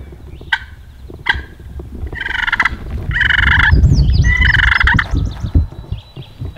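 Wild turkeys gobble from a hollow, a couple of sharp distant calls followed by longer, louder rattling gobbles, with other birds chirping faintly around them.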